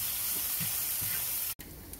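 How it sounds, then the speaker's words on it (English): Garlic roasting in a hot pan, a steady close sizzle and hiss that cuts out abruptly for a moment near the end, then carries on, with no talking. "Gonna let this roast a little bit."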